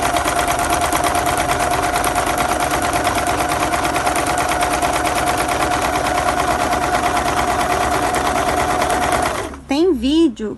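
Domestic sewing machine embroidering letters and names, a loud, steady rapid stitching drone running continuously for about nine seconds before stopping, followed by brief faint voices.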